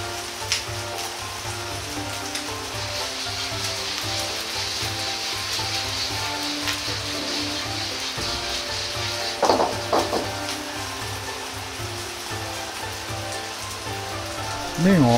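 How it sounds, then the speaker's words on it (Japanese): Yakisoba noodles fry in oil in a pan that is shaken now and then, giving a steady, dense crackling sizzle throughout with a few louder clatters of the pan. "麺が焦げないように鍋を揺すりながらじっくりと焼いていきます"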